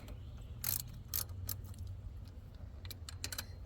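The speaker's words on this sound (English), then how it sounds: "now we're at the point where we're going to tighten it down" A ratchet clicks in short, quiet bursts, tightening the nuts on an EGR valve of a 2014 Leisure Travel Vans Unity on a Sprinter chassis. A low steady hum runs underneath.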